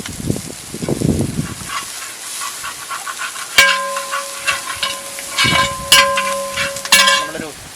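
Fresh curry leaves dropped into a pan of frying small shallots burst into a loud, close hissing sizzle with stirring clatter and a few metallic clinks, after a brief voice at the start.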